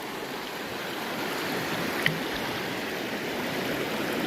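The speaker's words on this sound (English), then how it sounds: "It's a nice stream." A mountain stream near the Bob Marshall Wilderness on the Continental Divide rushes with a steady, broad wash of flowing water, heard up close with a single brief splash partway through.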